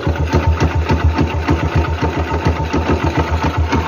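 A homemade 10-speed buggy engine starts and settles into a steady, fast-pulsing idle, loud and close throughout with an even rhythmic chug.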